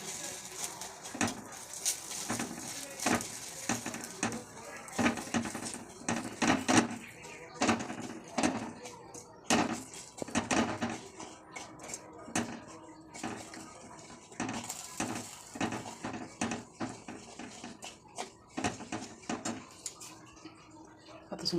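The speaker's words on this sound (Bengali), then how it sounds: "দেখো এবার একটু খুন্তি দিয়ে নেড়ে দেবো।" A spatula stirs sugar in a pan before milk goes in, giving intermittent close scrapes and clinks of metal against the pan, fairly quiet and broken up.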